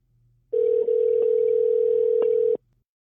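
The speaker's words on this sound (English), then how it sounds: "It's ringing." Telephone ringback tone on an outgoing call to a podcast guest, a steady loud continuous tone lasting about two seconds before it cuts off, with no talk over it.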